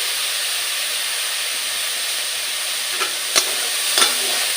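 Grated carrots fry in a pan for a carrot sweet, a steady loud sizzle and hiss filling the scene, with a few sharp scrapes and clinks of stirring near the end.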